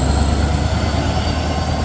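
A train rolling loudly and continuously past a level crossing, with a steady close rumble and a high metallic wheel whine sustained throughout.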